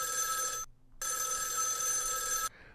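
An old-style telephone bell rings loud and close in two bursts: a short ring, a brief silence, then a longer ring that cuts off abruptly.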